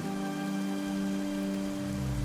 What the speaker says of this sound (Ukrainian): тому що там дощ іде